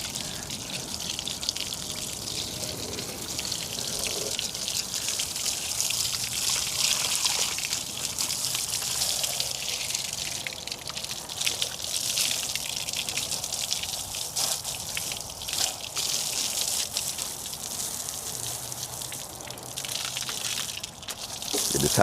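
A garden water hose rinses boat power pole components, making a continuous hissing spray of water that splashes and trickles against hard surfaces nearby for a long stretch, varying slightly in intensity.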